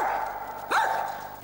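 A small dog barks once, sharp and fairly close, over a quiet steady background hum, with no one speaking.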